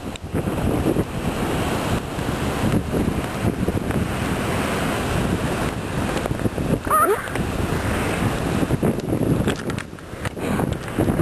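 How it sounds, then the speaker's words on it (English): Ocean waves crash continuously on the rainy Oregon coast, a loud, broad roar of surf mixed with heavy wind buffeting the microphone, steady throughout with no voices. "Look at the waves."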